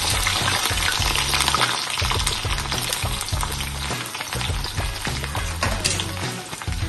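Ginger and garlic fry in hot oil in a pan for a prawn curry, a loud continuous sizzle broken by stirring scrapes and clatter, with no talk over it.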